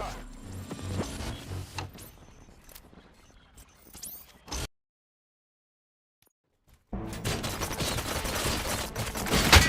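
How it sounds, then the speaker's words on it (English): Bursts of rapid gunfire and mechanical clatter in the video game Robocop: Rogue City, then an abrupt silence of about two seconds before dense firing and noise return, loud and close. "Gunshots? What's going on?"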